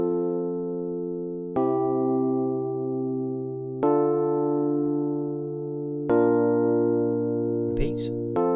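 A chord progression programmed in Logic plays back as sustained synthesized chords, changing roughly every two seconds with a clean attack on each new chord, alone and fairly loud, with a brief noisy blip near the end.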